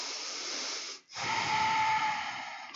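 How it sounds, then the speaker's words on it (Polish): Steady breathing during a yoga shoulder-mobility exercise: a long, airy, hissing exhale, a brief pause, then another smooth breath, close and fairly quiet with no talking. "Płynny oddech."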